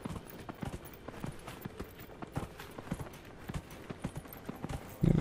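Horse hooves clip-clopping at a steady walking rhythm in the video game Dragon Age Inquisition, moderately close and fairly quiet, with a brief louder thud at the end.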